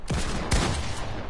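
Assault rifle fire in a video game: two loud, close shots about half a second apart, then a fainter third report, each with a deep booming tail.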